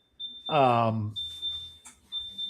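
A refrigerator alarm sounds a steady, thin, high-pitched electronic tone that keeps going through a brief pause while a person speaks over it.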